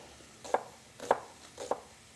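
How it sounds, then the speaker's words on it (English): A knife chops onions into large pieces on a cutting board, with three crisp, evenly spaced cuts close by in a quiet kitchen. "So we're just going to cut down the onions like that."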